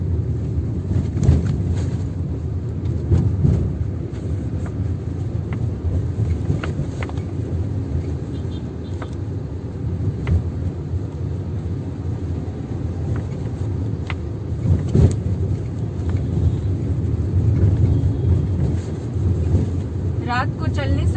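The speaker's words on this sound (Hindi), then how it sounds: "अभी हम सेकेंड गियर पे चल रहे हैं" A car drives slowly in second gear through night city traffic, a steady low engine rumble and road noise from inside the cabin running throughout, with wind buffeting and a person talking over it.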